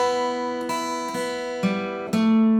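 A guitar plays a short riff of several picked notes and a hammer-on, each attack ringing into sustained tones, with the final note swelling louder and held, close and unaccompanied.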